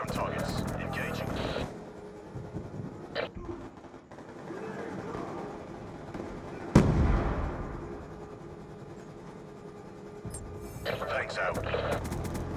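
Stealth chopper gunfire raining on ground targets in the Black Ops 2 game: steady rumbling engine and fire, a sharp heavy blast near the middle, then dense bursts returning, with voices speaking over it.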